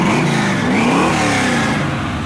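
Small-block V8 in a 1970 Chevrolet Nova with dual exhaust revs loudly and up close, rising then falling in a steady throaty roar without pauses.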